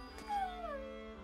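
Dog whimpering in the video game Battle Brothers, a single brief high whine that slides downward, faint, over a low background hum.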